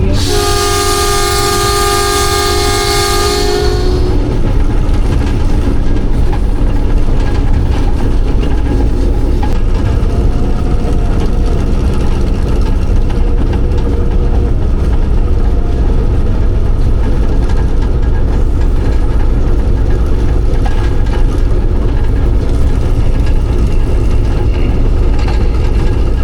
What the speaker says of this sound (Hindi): फुल कर्व पे जनाब ट्रेन हमारी घूम रही है